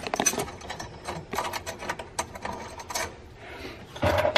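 Cap screws are started and tightened by hand onto a battery relocation plate on an MK4 Supra, close metallic clicks, scrapes and ratcheting bursts in irregular spurts with no talking.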